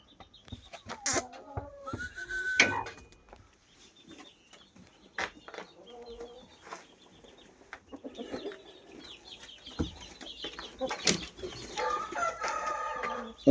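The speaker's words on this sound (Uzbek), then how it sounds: "o'sha kurka kelib qolibdi" A turkey calls among farmyard fowl in repeated, uneven bursts of clucking and gobbling, with short pauses between calls, at moderate loudness and fairly close.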